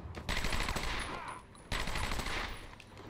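Rapid enemy gunfire from Batman: Arkham Asylum, two loud sustained bursts of automatic fire, the second starting after a short dip, with no talking over it.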